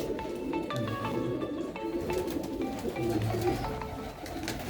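Pigeons coo in low, soft, repeated calls close by, with other birds chirping faintly in the background; no one speaks.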